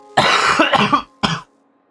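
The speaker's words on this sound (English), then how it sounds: "I'm gonna have a gnarly cough for a while." A harsh, close cough comes as a rapid burst of several hacks, then one final cough after a short gap, loud and alone.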